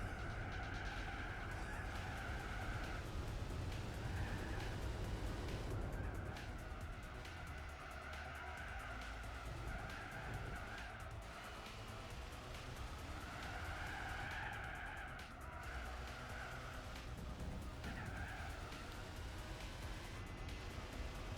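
Sustained tire squeal from a car sliding into oversteer in Gran Turismo 4, a steady screech that swells and fades in waves over continuous engine roar during a Corvette race.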